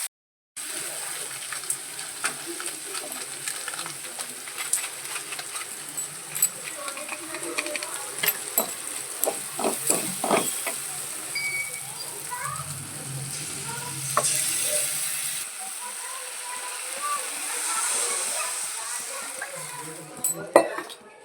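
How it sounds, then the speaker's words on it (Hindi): Water heating in a pan on a home kitchen stove before atta Maggi noodles go in, with a steady bubbling, sizzling texture and occasional clinks of utensils against the pan throughout. "गाइस पानी उबल जाए फिर हम इसमें डालेंगे मैगी"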